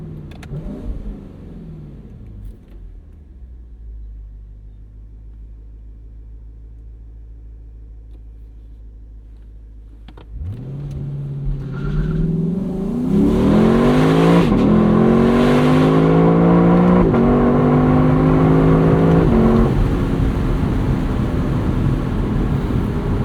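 A 2024 Lexus LC 500 convertible with its 471 hp V8 and the top down idles with a low steady rumble, then roars into a hard acceleration, climbing loudly through rising revs with a gear change before easing off.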